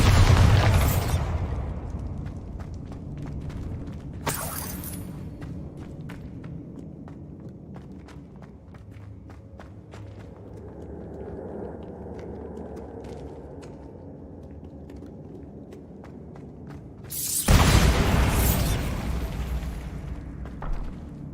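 Spell explosions from Bombarda and Confringo in Hogwarts Legacy burst out as loud booms near the start, again around four seconds and at seventeen seconds, with softer footsteps and rumbling between.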